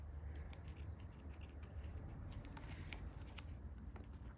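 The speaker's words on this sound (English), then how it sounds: "So we'll just carry on snipping around the edge of it." Repeated soft snips of scissors cutting through a plush toy's fabric, quick and close, over a steady background hiss.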